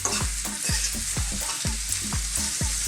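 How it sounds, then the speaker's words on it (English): Mushrooms sautéing in a pan over medium heat for a pork chop and cheese cream sauce, a steady sizzle broken by repeated sharp knocks of a utensil against the pan, close and alone. "So we're just going to saute these now. Get on a kind of medium heat"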